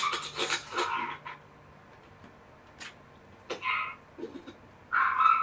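A few short dog barks and yips in quick bursts, fairly close and moderately loud, with quiet gaps between them and no talking.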